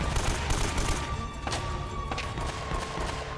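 Rapid AK rifle fire in Uncharted: Drake's Fortune rattles on steadily through the whole stretch, dense and fairly loud, layered with game ambience and no voices.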